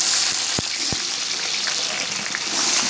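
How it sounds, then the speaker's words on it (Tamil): Onions fry in hot oil with a loud, dense, broad sizzle that holds steady throughout, with a couple of sharp knocks early on as they are stirred, close and without speech. "பார்த்தீங்கன்னா நம்ம வந்து வெங்காயத்தை இப்போ போட்டாச்சு. நல்லா கிளறி விட்டுக்கலாம், மிக்ஸ் பண்ணிக்கலாம்."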